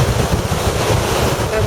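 Big waves and strong wind at Park Point Beach in Duluth, Minnesota, make a loud, continuous roar of surf, with heavy wind buffeting the microphone throughout.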